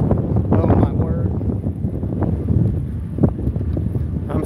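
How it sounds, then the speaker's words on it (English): Strong outdoor wind buffets the microphone, making a steady, heavy low rumble with gusty swells throughout, partly under a voice. "it's super windy over here"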